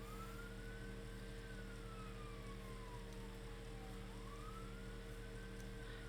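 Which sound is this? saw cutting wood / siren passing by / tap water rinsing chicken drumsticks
siren passing by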